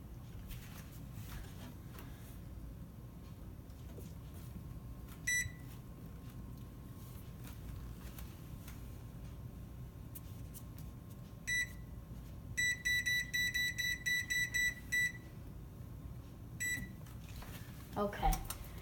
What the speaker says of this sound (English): first, you have to set the oven to 400 degrees Fahrenheit